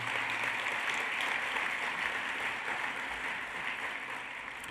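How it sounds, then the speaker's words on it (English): A banquet audience at a conference awards dinner gives a dense, sustained round of applause that stays strong throughout and tapers slightly toward the end. "please give a round of applause for the company's involvement at our conference banquet"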